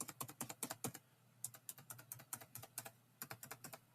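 Arrow keys on a computer keyboard are pressed repeatedly to nudge a shape in a graphics program, giving crisp, close clicks in quick bursts separated by short pauses, with no voices.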